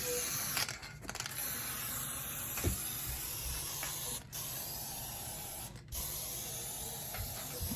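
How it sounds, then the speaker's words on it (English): A spray adhesive can hisses in long continuous bursts, broken by a few brief pauses, close and fairly loud. "I am using the spray adhesive"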